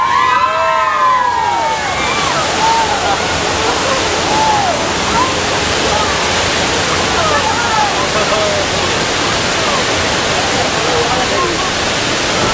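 Loud rushing water from a flood effect on the Universal Studios backlot tour roars steadily throughout, with wailing tones rising and falling on top of the torrent.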